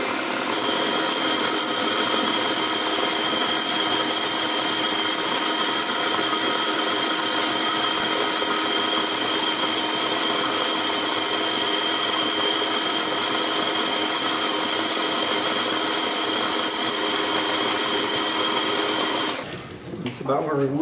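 An electric mixer creams butter in a bowl with a loud, constant whirring drone that holds steady throughout, then cuts off abruptly just before the end.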